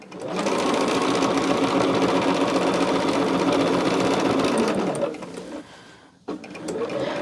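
A sewing machine stitches through a finished quilt top, running steadily and loudly for about five seconds, then slowing and pausing briefly before starting up again.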